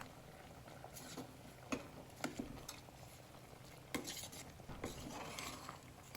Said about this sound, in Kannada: ಇದನ್ನು ಚೆನ್ನಾಗಿ ಮಿಕ್ಸ್ ಮಾಡ್ಕೊಳ್ಳೋಣ ಈಗ